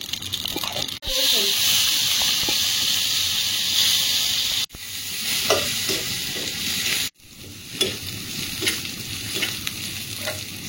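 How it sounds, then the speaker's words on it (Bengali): Garlic, dried red chilli and nigella seeds fry in hot oil, crackling in a loud, bright sizzle that cuts out briefly twice before resuming with stirring scrapes. "রসুনের কাঁচা গন্ধটা চলে যাওয়া পর্যন্ত ভেজে নেব।"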